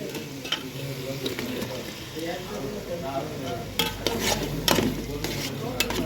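Tomato and green chilli sautéing in a pan for Tamil crab curry, a steady low sizzle with repeated spoon scrapes and stirring clatter close by, a few sharper utensil knocks near the end.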